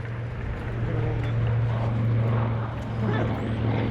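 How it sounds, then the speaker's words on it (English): B-25 Mitchell bomber piston engines with short exhaust stacks rumble steadily at an airshow, a broad continuous drone at moderate distance, with a voice talking over it. "Makes for a very, very unique sound from the B-25."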